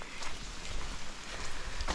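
Rain falls on a dense forest trail along a new hiking route up a hill, a soft, steady patter with light drips and a faint rustle, fairly quiet and without any voices.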